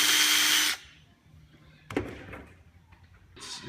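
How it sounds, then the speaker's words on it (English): A power drill bores a small pilot hole for a screw during the building of a wooden steam box. A loud, steady whir lasts under a second and stops abruptly, followed by quieter knocks and handling clatter. "Drill a little pilot hole."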